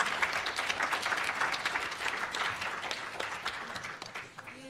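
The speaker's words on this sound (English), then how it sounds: "A round of applause for you." Steady, fairly loud applause from an audience at a 2016 talk on multilingualism and education in Africa, a continuous wash of many hands clapping that thins slightly near the end.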